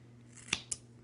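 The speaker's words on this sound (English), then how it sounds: "You want to cut the hair off with a pair of scissors" Scissors cut the synthetic hair off a My Little Pony doll with two quick, crisp snips about a fifth of a second apart, close and quiet in a still room.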